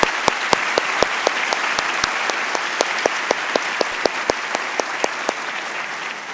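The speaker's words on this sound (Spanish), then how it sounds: "les pido un aplauso muy fuerte para ellos" An audience at a university information talk for families gives a sustained round of applause, steady and dense throughout, with louder individual claps standing out at a regular beat.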